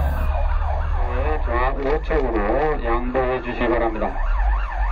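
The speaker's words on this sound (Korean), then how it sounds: "소방차의 경보가 들리면 여러분은 어떻게 행동하시나요?" A loud wailing fire engine siren in South Korea, rising and falling in sweeping cycles, close by and continuous over low traffic rumble.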